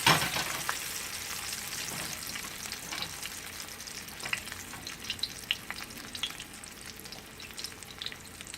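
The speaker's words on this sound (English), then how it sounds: "we're gonna put our eggplant in. Just gonna drop it and let it fry." Eggplant frying in a hot pan, a steady close sizzle with crackling pops scattered across it, continuous throughout with no voices.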